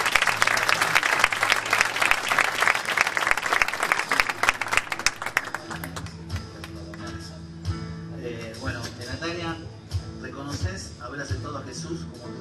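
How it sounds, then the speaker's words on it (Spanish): A church congregation at a baptism service bursts into strong, dense applause that fades after a few seconds, then someone speaks over the quieter room. "fuerte el aplauso para Nati."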